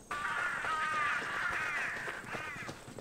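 A crow caws repeatedly in Assassin's Creed Odyssey, harsh rasping calls running almost continuously and then breaking into a couple of shorter caws, clear and moderately close against a quiet background, with no voices.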